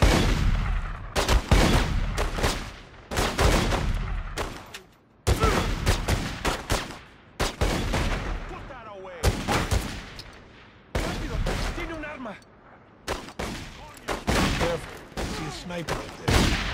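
Gunfire in The Godfather 2 video game at a packing company, loud repeated bursts of rapid shots in dense clusters separated by brief pauses, close and dominant.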